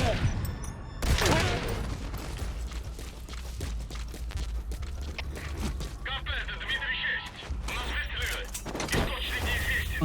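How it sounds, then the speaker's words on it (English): Gunfire bursts in the Metal Gear Solid V video game during a staff fight, sharp repeated shots and clatter over a dense game soundscape, with a person talking throughout. "Unidentified gunfire."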